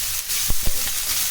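Chopped spring onions fry hard in a hot pan for veg fried rice, a steady loud sizzle with two brief thumps of stirring partway through, close and without talk.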